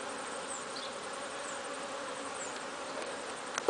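Honeybees hum in a steady, dense drone while a beehive is opened for inspection, with occasional individual bees passing close and a brief knock near the end.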